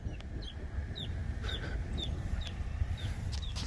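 Chickens clucking and peeping close by, short chirpy calls repeating every half second or so over a low steady background hum, fairly faint.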